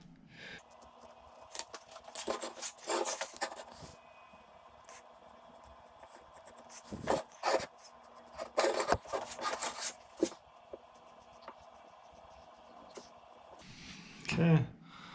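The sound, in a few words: drawing on live oak wood with a Sharpie marker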